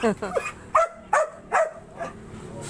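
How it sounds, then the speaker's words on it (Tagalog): A dog barks repeatedly in short bursts, four or five loud, close yaps spaced about half a second apart, with a person speaking around them. "yung aso tahol ng tahol tahol ng tahol"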